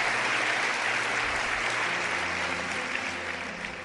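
A studio audience applauds an astrologer on a Spanish television talk show, with a continuous, even wash of clapping from many hands that tapers slightly toward the end.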